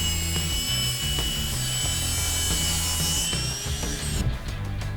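A RYOBI 18V HP brushless 254mm sliding mitre saw cuts through wood with a loud, steady whining blade and a grinding bite that holds for several seconds before the motor note drops and winds down.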